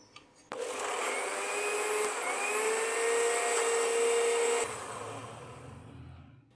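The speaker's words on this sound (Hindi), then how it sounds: "अब इसको ब्लेंड कर लेंगे।" A blender whirs loudly for about four seconds, blending a yogurt and salt mixture in a jug for green creamy besan dahi baray, then cuts off and leaves a low room hum.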